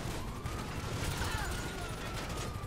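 Repeated gunfire in GTA V with a blood mod installed, a dense continuous barrage of shots and impacts filling the whole stretch at steady loudness, with no talk over it.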